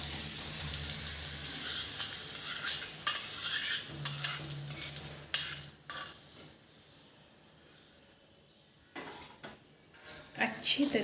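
Scraping and clinking of a spoon stirring koshimbir salad with sugar and tempering in a pan, soft and intermittent, with a brief quiet pause before a few louder scrapes.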